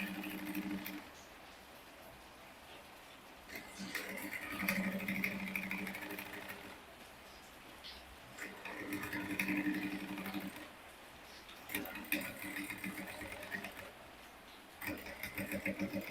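A sewing machine stitches a lacing bar onto a transparent illusion corset, running in steady mechanical bursts with short pauses between them at close range.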